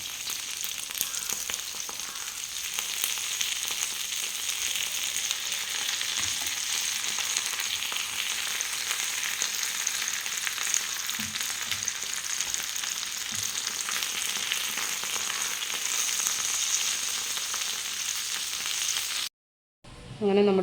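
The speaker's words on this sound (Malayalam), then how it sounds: "ഒരു വശം മൂത്തിട്ട് നമുക്കൊന്നുകൂടെ തിരിച്ചിട്ട് മൂപ്പിക്കാം." Karimeen, pearl spot fish, sizzles steadily in a hot pan with a constant, close frying crackle that runs almost to the end before stopping abruptly.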